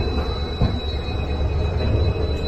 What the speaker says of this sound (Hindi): मैसूर के अजमेर के बीच चलने वाली ट्रेन